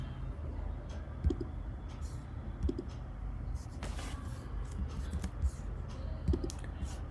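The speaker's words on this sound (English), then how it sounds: "So let me right click here." Several sharp computer mouse clicks, a right-click among them, sound at intervals over a steady low room hum, close and fairly quiet, with faint keyboard-like taps between them.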